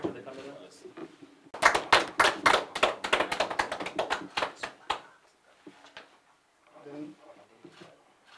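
A short burst of hand clapping from a small group at a scholarship presentation rises sharply and dies out after a few seconds, with people talking before and after.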